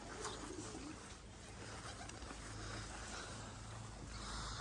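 Young racing pigeons coo softly inside a loft, low rolling calls repeating under a steady background hum, fairly quiet and with no voices.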